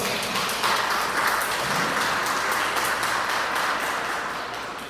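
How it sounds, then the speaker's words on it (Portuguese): A church congregation applauds loudly and steadily, dense clapping filling the room for about five seconds before easing slightly at the end. "E aplauda Jesus bem forte"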